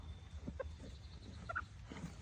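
Chickens by a roadside give a few brief, faint clucks over a low outdoor background rumble, with no talking.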